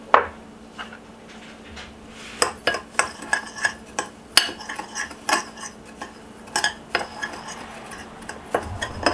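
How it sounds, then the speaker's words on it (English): Breadcrumbs, paprika and turmeric being mixed in a bowl, heard as a run of sharp utensil clicks and scrapes against the bowl, irregular and close, with no talking. "Mix it together."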